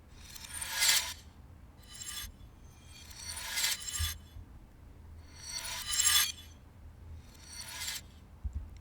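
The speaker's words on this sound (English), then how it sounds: "I want this scatter instrument to get more epic as it goes along." Scatter instrument spell effect for a game, built in Unreal Engine Metasounds: bursts of bright, raspy, glassy scattering shimmer that swell and fade in roughly every two seconds over a quiet low hum.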